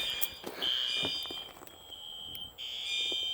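A fire alarm horn strobe goes off during a system test, giving loud shrill electronic tones that start, cut out briefly and start again across a few seconds, heard outdoors from close by.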